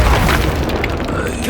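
A Confringo blast spell explodes in the Hogwarts Legacy video game, a dense, loud booming burst with crackling debris that fills the whole short moment, close and forceful.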